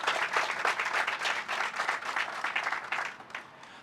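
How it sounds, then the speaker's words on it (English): An audience applauds at a groundbreaking ceremony held with a church congregation, honoring a former councilwoman: steady, dense clapping from a crowd that holds fairly even and thins slightly toward the end. "Please give former councilwoman Cleveland a round of applause."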